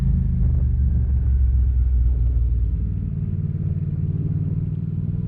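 Deep, steady engine rumble from a V-twin motorcycle, loud and close, holding a low throbbing drone that eases slightly toward the end.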